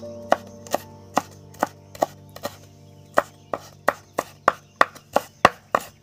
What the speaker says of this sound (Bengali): আমি কাঁচা লঙ্কা ধনেপাতা কেটে নিচ্ছি, একদম মিহি মিহি করে কাটবো